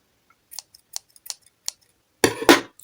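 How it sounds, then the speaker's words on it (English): Scissors cutting yarn during a crochet project: a few soft, light snips and clicks up close, followed by two louder, longer scraping cuts at the end, with no talking. "And you're going to cut your yarn next"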